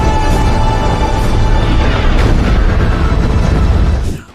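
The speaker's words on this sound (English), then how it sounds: "while it was bombing Midway" Bombs exploding during the Japanese air attack on Midway: a loud, dense, continuous rumbling roar of blasts with a few sharper bursts layered in, close and heavy, cutting off abruptly at the end, with no voices.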